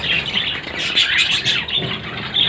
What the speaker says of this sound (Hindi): ये क्रीम कॉकटेल है मेरे पास